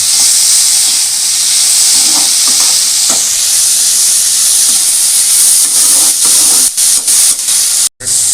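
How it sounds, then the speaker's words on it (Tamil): Tomatoes sautéing in a hot pan for elephant-yam (karunai kizhangu) chutney give off a steady, loud sizzling hiss with faint stirring scrapes and clinks, ending in a brief pause. "அடுத்தது தக்காளி சேர்த்து ஆட் பண்ணிடலாம். ஆட் பண்ணி வதக்கிடலாம்."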